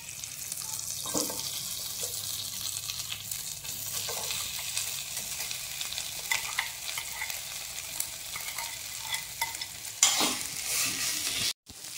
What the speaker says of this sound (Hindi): चला तर आता कढईमध्ये थोडेसे बटर टाकून आपण बनवलेली बटाट्याची स्पेशल चटणी थोडीशी गरम करून घेऊया